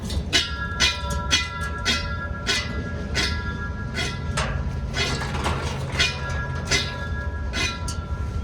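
Bent aftermarket alloy wheel spinning, a regular rhythmic ticking or scraping roughly twice a second over a low steady hum, close and fairly quiet, with no talk.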